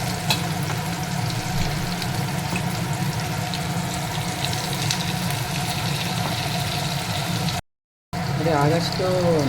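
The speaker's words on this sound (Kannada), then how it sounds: "ಅವಾಗ ಬನಾನಾ ಒಳಗಿನ ಕೂಡ ಚೆನ್ನಾಗಿ ಫ್ರೈ ಆಗುತ್ತೆ" Raw banana bajji fry in oil over a medium flame, giving a constant close bubbling sizzle that runs steadily before breaking off briefly near the end.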